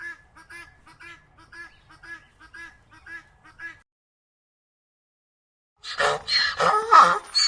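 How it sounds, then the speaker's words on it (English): Guinea fowl calling in a repeated, rhythmic series of harsh, grating notes, fairly faint at first, then after a short silence a louder, busier burst of squawking calls. "Guinea fowl"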